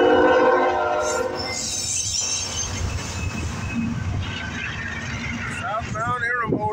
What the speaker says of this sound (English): Southbound intermodal. Wow, this is the CSX intermodal.